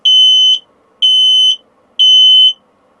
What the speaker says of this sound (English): Eva smoke alarm tested and in good condition.